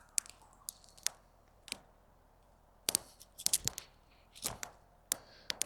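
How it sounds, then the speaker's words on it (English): A Brisa Nessmuk 125 knife chops through branches and small limbs outdoors, giving a series of sharp, close, irregularly spaced strikes with quiet gaps between them and no talking. "But chopping branches and smaller limbs shouldn't be a problem."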